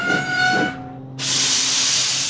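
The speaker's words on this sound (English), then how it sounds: "Thomas's brakes sound like this" A steam engine's brakes release a loud, sustained hiss of steam after a brief whistle-like tone and a short pause, the hiss continuing strongly to the end.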